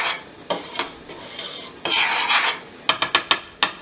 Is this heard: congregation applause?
no